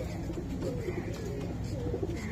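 A Saharanpur male pigeon coos in a loft, soft repeated low murmuring calls sitting under a quiet background with a faint voice.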